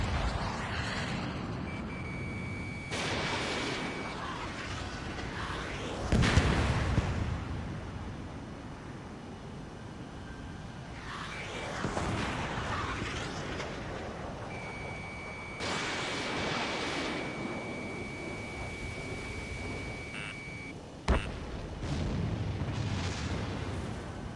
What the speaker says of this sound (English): enemy has a lock on you, Mage 2. Missile. Missile. Missile.